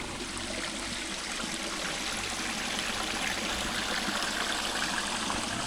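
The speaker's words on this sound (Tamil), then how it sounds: "தண்ணி பாருங்க எப்படி போகுது" Irrigation water rushing steadily through a farm field channel, a loud continuous broadband stream and gurgle with no pauses, close by and alone.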